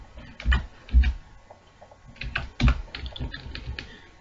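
Keys clatter on a computer keyboard in short bursts, with a few pauses between them, close and clear, and no talking.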